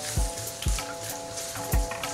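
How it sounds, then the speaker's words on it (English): Onions sautéing in a hot pan for an Asian-style beef stew, a continuous hiss of sizzling punctuated by three dull knocks of the utensil against the pan. "We're going to fry, no, saute the onions. Throw this in. Ah, that sizzle."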